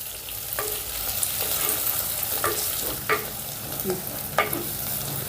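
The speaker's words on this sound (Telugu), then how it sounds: "ఇప్పుడు వీటన్నిటిని ఒక రెండు నిమిషాల పాటు ఫ్రై చేసుకుందాం" Garlic cloves and green chilies frying in a pan give a steady, close hiss with a few sharp clicks of a utensil stirring and scraping at intervals, with no talk.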